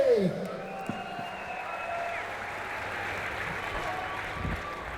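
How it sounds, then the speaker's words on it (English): Appreciative crowd at the 2018 Strongman World Championship applauding and cheering after a world record log press, a steady wash of clapping that swells near the end, with a commentator's voice over it. "a very appreciative crowd there"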